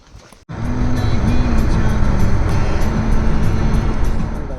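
A Mahindra Xylo car arrives with a steady, fairly loud engine rumble that starts abruptly and holds close by, with no talking over it.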